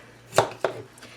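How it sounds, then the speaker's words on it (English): Two sharp knife chops on a cutting board, close and crisp, about a quarter second apart, as vegetables are cut finely for a chopped salad at a campfire meal, with nothing else around them. "a chopped salad, which is basically just a salad that you chop up fine"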